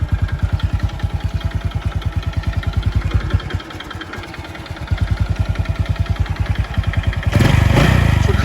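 Honda Wave 125s kick-start motorcycle engine idling close by in a steady, rapid putter, dipping briefly mid-way then picking back up, with a louder rev toward the end.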